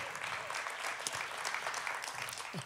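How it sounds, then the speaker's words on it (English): A church congregation applauds, a dense, close wash of clapping that stays even throughout. "Give them a hand clap."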